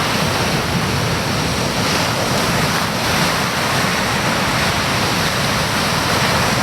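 Heavy ocean surf at Banzai Pipeline, Hawaii roars continuously, large 15 to 20 foot waves crashing in a dense, loud wash of sound with no voices.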